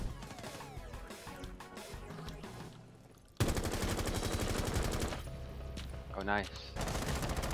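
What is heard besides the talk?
gunfire in Rainbow Six Siege video game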